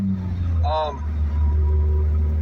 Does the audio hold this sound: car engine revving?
yes